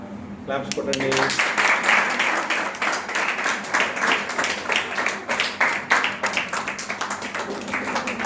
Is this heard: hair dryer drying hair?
no